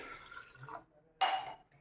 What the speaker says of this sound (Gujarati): હવે આપણે આની અંદર પાણી નાખી દઈએ